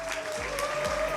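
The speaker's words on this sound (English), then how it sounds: "a massive round of applause" A crowd applauds the winner of an esports racing final, a short, dense burst of clapping that fills the moment evenly and is fairly loud, with no speech over it.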